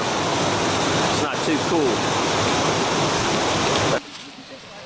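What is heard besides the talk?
waterfall at Cheaha Falls dropping into a pool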